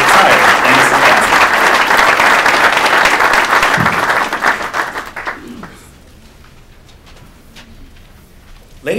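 A room full of people applauds retirees at a federal civil service retirement ceremony, loud dense clapping that fades out after about five seconds, leaving a quiet hall with faint stray sounds.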